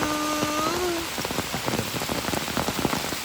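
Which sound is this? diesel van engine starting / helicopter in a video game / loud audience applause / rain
rain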